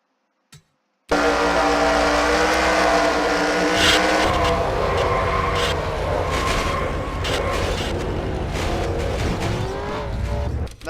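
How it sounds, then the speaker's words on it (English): A race car in the NR2003 sim racing game, heard onboard at Bristol during a wreck after contact with another car. The engine roars loudly and continuously, its revs climbing briefly with tire squeal over the drone. "That onboard view, you can hear the RPMs pick up for just a second after the contact with Nemechek"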